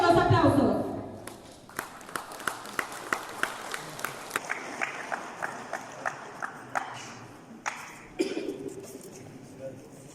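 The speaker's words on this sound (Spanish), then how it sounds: "Fuertes los aplausos" Outdoor crowd applause during the 2023 handover ceremony of outgoing authorities in Buenavista, with someone speaking over it and sharp rhythmic claps or hoof-like knocks punctuating the steady patter.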